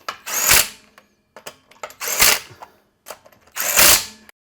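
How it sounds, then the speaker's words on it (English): Powered driver snugging the rear wheel lug nuts on a Hyundai Santa Fe: three loud, close rattling bursts of about half a second each, separated by quieter clicks and handling noises. "snug them on with my trusty driver"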